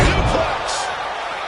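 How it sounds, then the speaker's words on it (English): A suplex slam in the WWE 2K25 wrestling video game lands as one loud, heavy impact at the start, followed by a brief ringing decay over low crowd noise. "Suplex."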